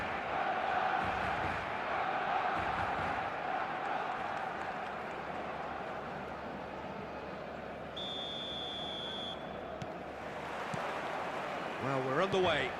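Stadium crowd in the eFootball video game, a broad steady roar of massed fans heard under an announcer's voice throughout.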